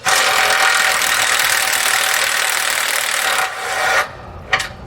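An impact gun spins out a bolt during a helper-spring install on a 2018 Tiffin motorhome suspension. A loud, close, continuous whirring rattle runs for about four seconds, then cuts off with a brief final burst.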